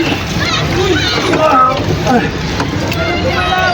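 A paddle splashes and sloshes water as a small boat is rowed, heard close beneath almost constant excited talking from several people, including a child.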